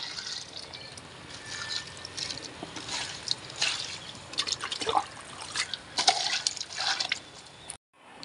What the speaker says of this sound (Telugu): ఇంక ఇప్పుడు ఈ మెట్ల మీద ఉన్న ఈ మొక్కలకి నీళ్ళు వేయాలన్నమాట.